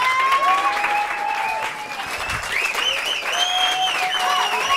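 Studio audience applauding steadily at a televised French stand-up comedy show, loud, even clapping throughout with whistles and cheers rising over it.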